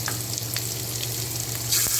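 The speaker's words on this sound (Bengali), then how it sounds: "দেখো লাল করে ভাজা হয়ে গেছে" Parboiled potatoes frying in a pan for a Bengali katla fish recipe, giving a steady, close sizzle throughout with small crackles and a slight swell near the end, no voices.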